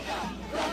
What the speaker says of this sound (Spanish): PPK hizo su ingreso a la cancha de fútbol del estadio de la Universidad Nacional de San Marcos, donde jóvenes y adultos vitoreaban